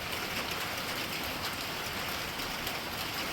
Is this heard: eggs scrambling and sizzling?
no